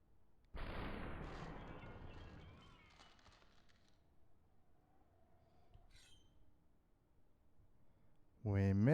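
Gunfire and a deflected bullet in the slow-motion shooter SUPERHOT: one loud shot with a bright ringing crack that slowly fades, a faint glassy ping midway, then another sharp burst at the end.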